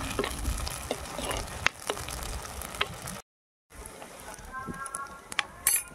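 Dried prawns fry in a hot pan for an eggplant curry, giving a steady close sizzle with scattered pops and scraping stirs, broken by a brief silent gap partway through.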